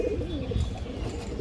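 Female black Muslodom pigeons coo in low, wavering tones, the soft murmuring calls close and continuous through a steady background.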